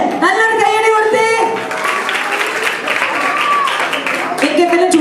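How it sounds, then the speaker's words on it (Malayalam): A group of children at a church vacation Bible school claps steadily for several seconds, the applause mixed with excited voices and cheering close by. "നല്ലൊരു കൈയടി കൊടുത്തേ"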